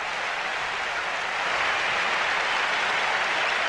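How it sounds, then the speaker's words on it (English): Tennis crowd at a 1989 US Open semifinal applauding, a steady dense wash of clapping from a large stadium audience, loud and continuous throughout. "Listen to the crowd."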